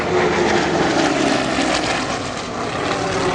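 A large World War II trimotor aircraft in Luftwaffe colours drones overhead, a loud, steady engine roar with propeller texture that swells and fades slightly, no talk.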